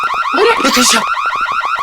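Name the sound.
alarm going off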